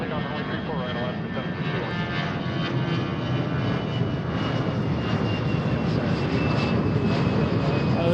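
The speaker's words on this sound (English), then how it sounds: "Alaska 761, runway 34 right, clear for takeoff." An Alaska Airlines jet takes off from runway 34 right at Seattle, its engines producing a loud, sustained broadband roar that fills the whole stretch, with faint radio chatter mixed in.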